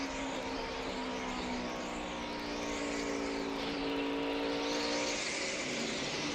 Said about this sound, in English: That's wheel spin.